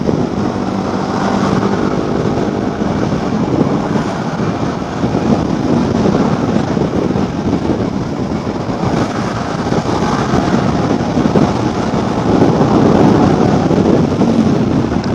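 A motorcycle speeds along an empty road at around 80–89 km/h, its engine drone buried in steady, loud roaring wind buffeting the microphone, unbroken throughout with no voices.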